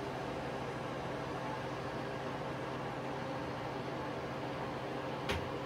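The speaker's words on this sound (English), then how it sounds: "Sounds like a refrigerator." Harvest Right freeze dryer starting its first freeze test, a steady refrigerator-like compressor hum and hiss running alone, ending with a brief click.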